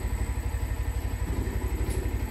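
A 2010 Yamaha YZF-R125 motorcycle fitted with a Scorpion exhaust idles close by, a steady, lumpy low throb of regular pulses with no talk over it.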